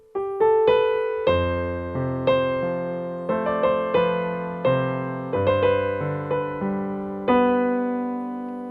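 Left-hand piano part, played alone: a slow succession of deep bass notes and mid chords, each struck clearly and left to ring, close and steady, with no talking.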